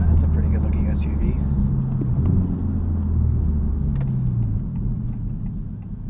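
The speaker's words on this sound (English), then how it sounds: "a quick taste of the new MRT Street Race muffler delete axle back, whatever you want to call it, on the new 2023 FL5 Civic Type R" A 2023 Honda Civic Type R FL5 with an MRT Street Race axle-back muffler delete gives a steady, deep exhaust rumble, close and loud throughout, with slight rises in pitch.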